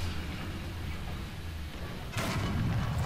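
A single heavy tank cannon blast in a video game booms over a steady engine rumble, a deep shot with a lingering low roar afterward.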